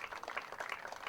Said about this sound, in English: A nice round of applause from the Larks fans